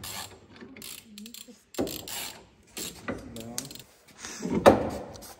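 A ratchet wrench clicking as it is turned on a BMW E30 with an LS2 engine during a steering angle kit install: short close bursts of ratcheting clicks separated by pauses, with voices talking between.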